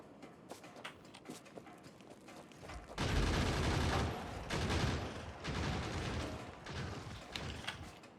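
Gunfire in the Factorio Space Age game, a loud sustained burst of rapid shots that kicks in suddenly after a few seconds of quieter mechanical clicking and continues in dense waves.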